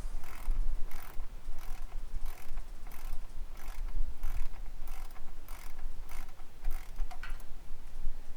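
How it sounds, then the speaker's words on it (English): A ratchet wrench loosens a 12mm bolt holding the parking brake cable under a Honda Accord, giving regular bursts of close metallic clicking against low background noise, with no talking. "I'm just unfastening one last 12mm bolt that is holding on the parking brake cable"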